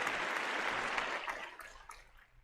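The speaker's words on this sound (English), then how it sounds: "And a big round of applause for Leslie." Applause from a studio audience or call-in show crowd after a guest leaves a paranormal open-line program, a dense burst of clapping that fades out over a couple of seconds.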